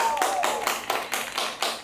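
Several quick hand claps ring out in a short, lively burst, close and fairly loud, with a faint tone in the background.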